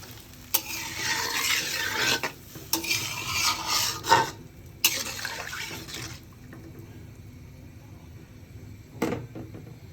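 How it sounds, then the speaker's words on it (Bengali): Vegetables frying in a pan for a curry, with repeated scraping stirs of a utensil against the pan over a steady sizzle, a few louder clanks at intervals and no talking. "আর একটু ভাজা ভাজা করে ঝোলের পানি দিয়ে দিব"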